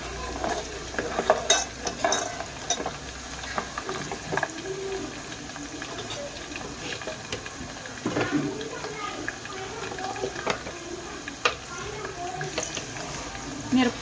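Curry leaves with green and dried chillies crackle and sizzle in hot oil for a pulusu made with country onions, a steady close frying hiss broken by occasional stirring clinks, with a voice talking over it.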